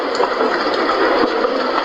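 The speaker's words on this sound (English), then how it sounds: "This is Moving Train." A Three Sheep white noise sleep machine plays its moving train sound, a steady, dense rumble and hiss with faint rhythmic clacks, fairly loud and unbroken.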